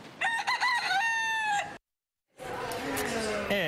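A rooster crows loudly and close by in a city neighborhood, then after a short silence a second crow follows, slightly rougher in tone.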